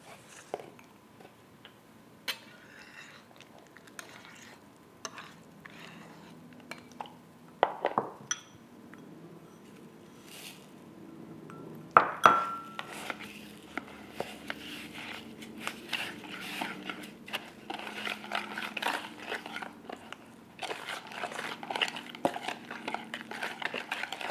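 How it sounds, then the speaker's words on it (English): Greek yogurt being stirred with brown sugar in a bowl, a steady run of soft scraping, clinks and small wet taps from a utensil against the bowl, growing busier toward the end. "we're going to be mixing this Greek yogurt with this brown sugar"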